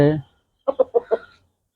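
A recovering chicken walking about: a short burst of voice at the start, then four quick, close clucks in a row before silence.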